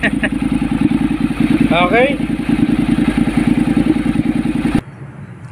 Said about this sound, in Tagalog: yung tunog ng ating 50 mil na Akrapovic na muffler